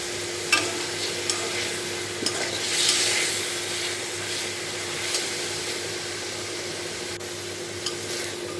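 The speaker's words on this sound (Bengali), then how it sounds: "এইভাবেই একটু নেড়ে নিতে হবে তেলের মধ্যে" Shrimp and water lily stems are stirred in hot oil, a continuous sizzle broken by a few soft scrapes and knocks of the spoon against the pan.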